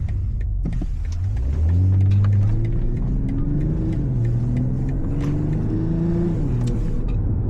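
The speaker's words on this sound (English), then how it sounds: "it's rattling on and off every time you accelerate, pretty much regardless of speed" A BMW M340i accelerates from inside the cabin, its engine note climbing through steady rising tones over a deep road rumble, with faint intermittent interior rattles scattered on top and no talking.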